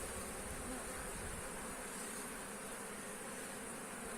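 Dense, steady buzzing of many honeybees swarming nearby, a continuous droning hum with no voices.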